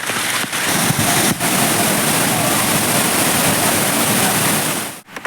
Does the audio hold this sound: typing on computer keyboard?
no